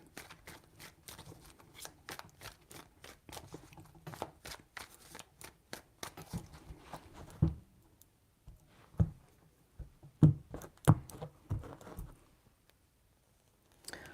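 Tarot cards being shuffled by hand, a quiet run of fast riffling flicks that thins out into a few separate taps and slaps, close up with no talking.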